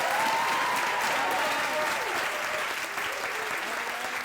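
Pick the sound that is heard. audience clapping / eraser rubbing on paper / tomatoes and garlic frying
audience clapping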